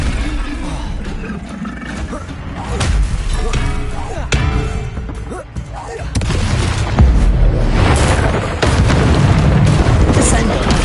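Confringo explosive spell blasts in Hogwarts Legacy, with repeated loud booming bursts over a dense, continuous roar of spellcasting and combat effects that stay loud for the whole span.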